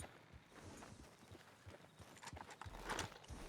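Horse hooves clip-clop in Red Dead Redemption 2 as the rider urges the horse on, an uneven run of soft thuds that grows busier and louder toward the end over faint background sound.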